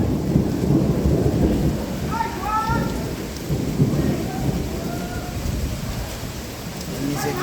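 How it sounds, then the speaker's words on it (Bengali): Late-April rain pours over Dhaka city with a steady, dense patter, while deep thunder rumbles roll through repeatedly in the background. "অবশেষে এপ্রিল মাস শেষে ঢাকা শহরে স্বস্তির বৃষ্টি।"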